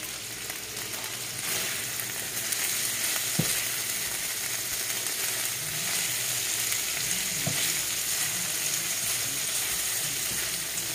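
Ground turkey fries and browns in a little extra virgin olive oil, giving a steady close sizzle throughout with occasional stirring scrapes and a couple of utensil knocks.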